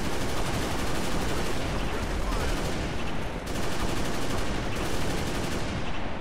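Dense, continuous automatic gunfire from an assault rifle in the Cursed Halo Reach video game, a loud unbroken barrage for the whole stretch with only a brief dip midway and no talk over it.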